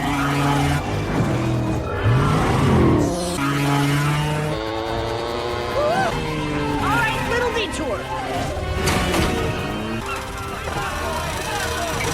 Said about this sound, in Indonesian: Melihat itu Susan langsung mengejar mobil tersebut.